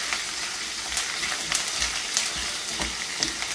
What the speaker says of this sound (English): You can hear the crackling of the curry leaves.